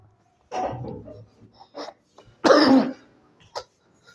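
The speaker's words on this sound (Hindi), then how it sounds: "थोड़ा खांसी आ गया था" A person coughs a few times during a physics lecture: a rough cough, small throat noises, then a louder, harsher cough and a final short one, close and otherwise quiet.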